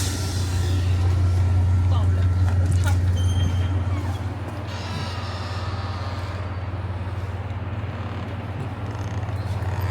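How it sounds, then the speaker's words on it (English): Train engines idle at a steady, loud low rumble while a Via Rail passenger train is refueled at Kamloops. The drone is continuous and close throughout, with faint scattered background noises above it. "Refueling the train, the engines."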